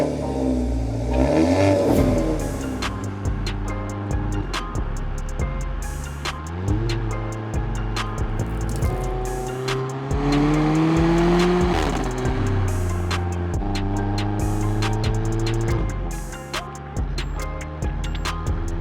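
An Alfa Romeo Giulietta Veloce engine revs up through the gears on a motorway, pitch rising and dropping with each shift, heard steadily from inside the moving car with faint ticking.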